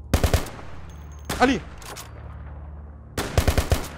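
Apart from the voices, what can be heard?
gunfire from a video game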